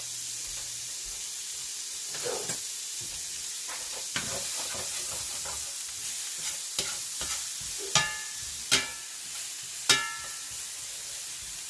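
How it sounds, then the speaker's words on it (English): A small sliced onion sizzling in a pan, a steady soft frying hiss with scattered crackles and a few louder clacks of a utensil toward the end, close and alone with no voices. "So I'm going to throw in one small tiny onion sliced up like so."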